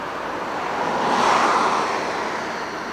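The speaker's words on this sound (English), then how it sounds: "Here's the other waterfall." Steady broadband rush of a waterfall at a California overlook, loud and continuous, swelling slightly in the middle of the span with no voices.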